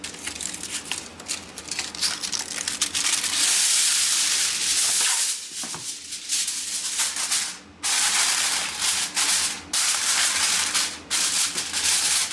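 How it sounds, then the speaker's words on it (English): Greasing a pan for scalloped potatoes made from long-term pantry ingredients gives a steady, close rubbing and crinkling scrape, mostly continuous with a few brief pauses, heard alone with no talking. "Now I greased that pan."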